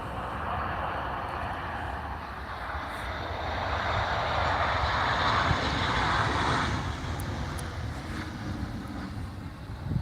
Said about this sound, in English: I believe this is a Jet 2 737 just about to land